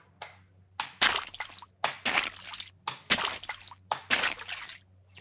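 Footsteps splashing through water in a Unity game, a steady walking rhythm of wet sloshes and squishes, each step a distinct close splash with short pauses between.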